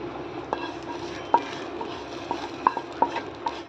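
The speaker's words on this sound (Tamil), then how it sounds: "தாளித்து கொட்டிக்கிட்டேன்." Hot curry-leaf tempering poured into a village-style mutton breastbone curry, with a light sizzle and a few sharp clinks of a metal ladle against the pot.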